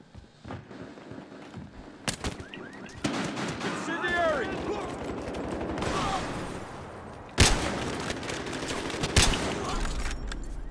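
Gunfire in the video game Battlefield Hardline, with scattered single shots and bursts ranging from distant to close and a couple of sharp, loud cracks, under a steady game din with people talking.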